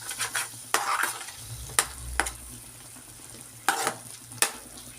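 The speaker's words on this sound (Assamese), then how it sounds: "মাজে মাজে দুই এবাৰ এইদৰে লৰাই দিব" Spoon stirring a potato, pea and paneer curry in a pan, with several sharp scraping strokes spaced across a soft background sizzle, close and moderately loud with no voices.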